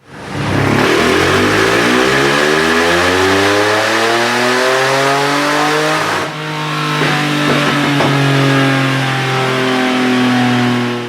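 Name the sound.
engine revving during final dyno power pull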